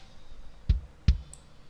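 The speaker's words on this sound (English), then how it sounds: "After all the plugins, it sounds like this." Two punchy, tight kick drum hits, processed with EQ and compression, land about half a second apart, followed by a tiny high click.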